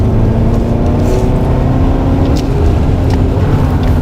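A Kia Sorento with a 2.5-litre turbo gasoline engine and front-wheel drive accelerates on the road, giving a steady, close engine drone and road rumble with no talking.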